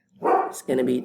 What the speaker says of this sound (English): Pardon my dog in the background.